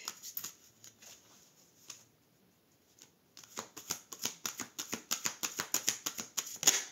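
Tarot cards shuffled and drawn by hand, a quick patter of card flicks and snaps, a brief pause near the start, then a brisk steady run of sharp riffling strokes, close and clear.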